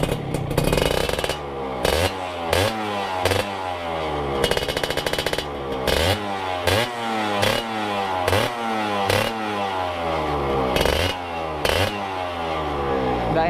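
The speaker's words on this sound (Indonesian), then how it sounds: "Kalau motor ini tuh udah normal semua, tinggal gas doang." A Suzuki Satria 120R two-stroke motorcycle engine revs loudly and close, with repeated sharp throttle blips that rise and drop in a choppy rhythm over a steady, raspy idle.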